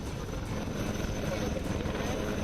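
An Army Aviation rescue helicopter able to carry 14 people flies with a continuous, loud rotor and engine roar that holds steady throughout, with a voice speaking over it.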